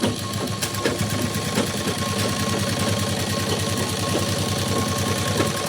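A sewing machine runs steadily and fast, putting a fitting seam into a blouse. Its needle chatters in an even, continuous rhythm, loud and close with no talk.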